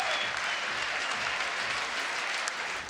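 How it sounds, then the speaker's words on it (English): Spectators at a professional squash match break into loud, sustained applause and roaring that fills the venue evenly for a few seconds, then begins to fade at the end. "The crowd roar."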